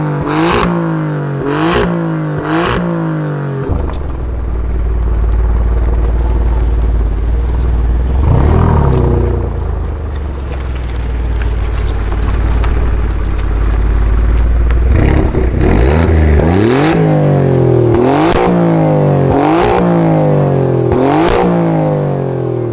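Alfa Romeo Giulia Quadrifoglio, a 510 hp rear-wheel-drive sedan with flap-controlled exhaust, revs hard in loud sharp bursts at start and end, with a sustained low engine drone and a single rise through the middle; no voices.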